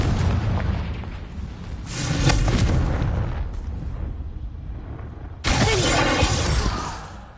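A Confringo fire spell explodes in Hogwarts Legacy, loud booming blasts with a shattering crackle, one long rumbling burst followed by a second sudden explosion that fades out.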